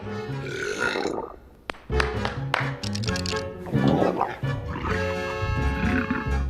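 A cartoon burp from the Scooby-Doo burp and fart scene, a long, loud, drawn-out belch over a music score, with several burp sounds following one another.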